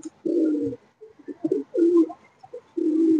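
Malwai pigeons coo in a close series of low, throaty calls with brief gaps, loud and near, with no talk over them.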